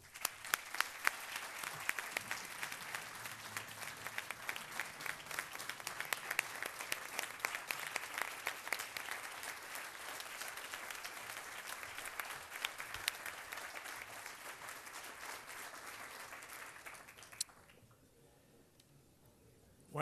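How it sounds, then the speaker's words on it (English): An audience at an awards ceremony applauds continuously for about seventeen seconds, a dense, even wash of clapping that stops abruptly into near silence. "We applaud you."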